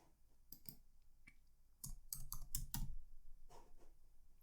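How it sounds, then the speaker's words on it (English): Quiet computer keyboard typing, sparse clicks at first, then a quicker burst of keystrokes, close and soft with no voices. "So let's type that in."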